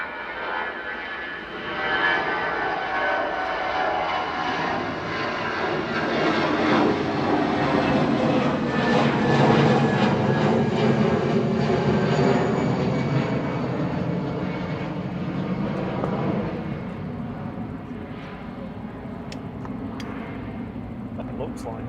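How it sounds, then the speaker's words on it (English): An easyJet Airbus A320 jet departs Manchester Airport with a loud, sustained engine roar that swells to a peak and then eases slightly over about twenty seconds. "EasyJet 2109 to Paris Charles de Gaulle now, GZWI, A320 Classic departing."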